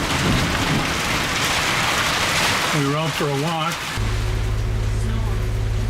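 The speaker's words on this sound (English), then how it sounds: "I think it's hail." Hail falling during a hike in Guadalupe Mountains National Park, Texas, a loud continuous hiss of pellets striking the ground, with a person speaking briefly under it and a steady low hum near the end.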